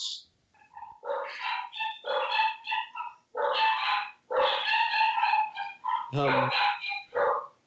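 During a tabletop role-playing session, a person's voice loudly imitates a pack of dogs barking and yipping, a run of sharp, uneven bursts with short pauses between them, close to the microphone.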